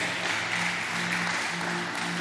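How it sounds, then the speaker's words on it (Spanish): A church congregation at a Spanish-language service bursts into a brief round of applause, a steady, dense wash of clapping filling the room. "Dale un aplauso al Señor ahí donde estás"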